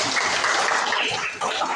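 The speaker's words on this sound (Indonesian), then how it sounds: "Tepuk tangan untuk Kayla." Classroom of students clapping for a classmate after her presentation on global warming, a brief, loud, continuous patter of hands.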